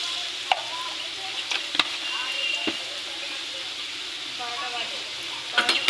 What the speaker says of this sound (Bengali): এবার আমি পটলটা ভেজে নেব ভালো করে, লাল করে